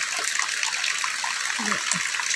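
Water poured into a fish curry makes a continuous close splashing gush, with a voice speaking faintly underneath.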